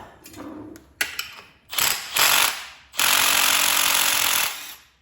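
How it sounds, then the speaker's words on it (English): A power tool rattles in short bursts, then in one long sustained run, as it spins a nut off a lowering spring assembly on a 1,500 hp Jeep Trackhawk. The impact is loud and close. "So now what we gotta do is take that nut off on the inside."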